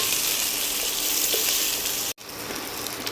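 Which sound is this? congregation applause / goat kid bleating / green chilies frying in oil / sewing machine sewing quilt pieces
green chilies frying in oil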